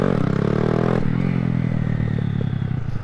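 A motorcycle rolls along on its back wheel, its engine loud and close with a steady pulsing drone, easing slightly in pitch partway through, with faint clatter from the chain.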